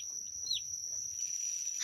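Newly hatched chicks chirping indoors, a faint high peep rising briefly near the middle over a steady thin whine and low background hum.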